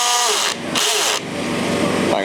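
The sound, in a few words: new cordless drill pre-drilling a bolt hole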